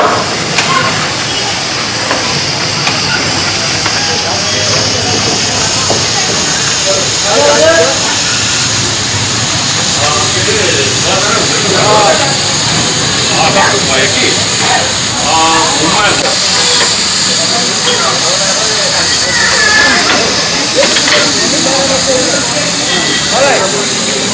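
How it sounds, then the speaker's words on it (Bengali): A Darjeeling Himalayan Railway toy train steam locomotive, the 52596 Joyride, hisses steadily at close range, with voices and station noise mixed in throughout. "Train number 52596 Joyride is steam powered."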